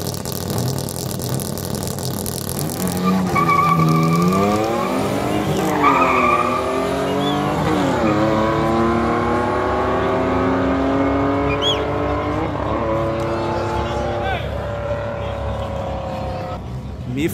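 Drag race between a Golf GTI, an Audi A3 and a Ford Ka, with engines revving hard through rising gear changes and tires squealing, loud and close, muffled voices underneath.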